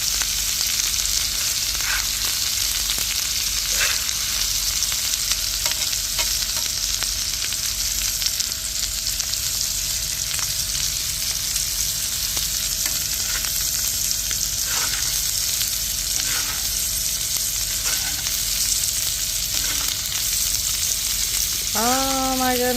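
Steak sizzles steadily in garlic and herb butter in a pan, a constant broad frying hiss with scattered pops and crackles throughout and no talk.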